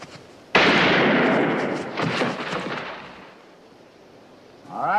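On a film set, a detonator sets off an explosion: one sudden, loud, close blast that rumbles and decays over a few seconds, followed by a brief voice at the end.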